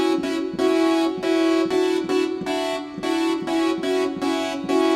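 Synth arpeggiator patch from Omnisphere, with some notes raised an octave, playing a steady run of sustained electronic tones over a constant low drone, in a repeating pulse of about ten notes, loud and close with no voices.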